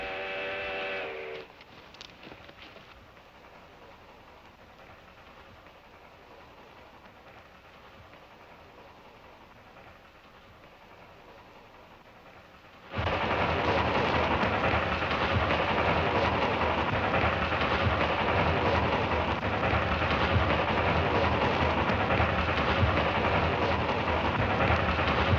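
A steam train draws closer, its whistle sounding briefly at the start before a long stretch of low rumble, then the roar of the passing train swells loud and steady for the rest.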